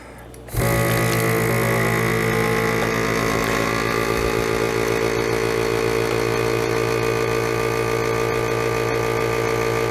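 Food saver vacuum sealer pump pulling air from a bag holding a salmon fillet, a loud steady mechanical hum and whir that starts abruptly after half a second and runs continuously to the end.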